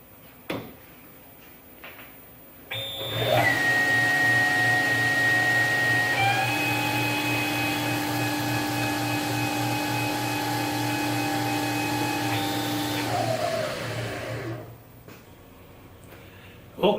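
Tormach CNC lathe neck-turning a 6PPC brass case in a ten-second cycle, a steady loud mechanical whir with a sustained high whine that shifts pitch midway, starting and stopping cleanly with quiet shop air on either side.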